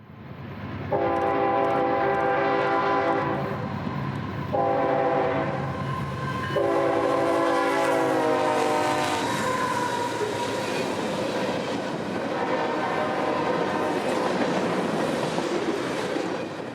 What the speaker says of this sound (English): Right behind the 126 and running on approaches would be another southbound freight, calling as M407